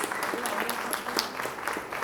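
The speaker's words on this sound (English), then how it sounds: "Can we give both of them a big round of applause, please?" An audience at a 50 km world championship event gives a round of applause, producing dense, continuous clapping from many hands at moderate loudness, with faint crowd murmur mixed in.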